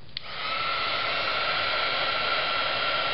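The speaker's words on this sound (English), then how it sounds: "Pull out my heat gun" A heat gun blows a steady, loud, even whoosh of hot air used to melt embossing powder on a stamped card, starting with a brief click and holding constant with no voices.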